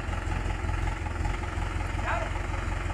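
A tractor engine idles steadily with a low, continuous rumble while bricks are unloaded for a cattle-trough build on a farm; a voice speaks briefly over the engine.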